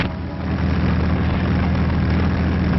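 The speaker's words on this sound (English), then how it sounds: "From dawn to dawn, the sound of aeroplane engines filled the air." Wartime aircraft engines from 1944 drone in a loud, continuous low hum with a steady throb and no break, heard alone on an old band-limited recording.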